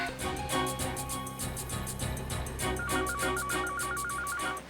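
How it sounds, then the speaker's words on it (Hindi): A telephone rings in a corridor with a repeating electronic trill, set within a busy soundtrack of music and rhythmic percussion. Neither the ringtone nor the music stops throughout. "बेल बज रही है सर। बेल तो इसी कॉरिडोर में से आ रही है।"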